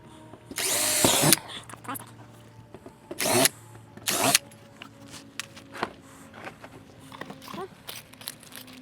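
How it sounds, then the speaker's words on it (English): A power drill bores holes into a boat in three loud whirring bursts, the first about a second long and the next two shorter, with quieter handling clicks and knocks between them. "Let's drill a couple more holes."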